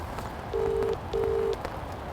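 A phone call ringing out unanswered at a winter carp fishing session: two faint, evenly spaced ring tones heard through the handset over outdoor background noise.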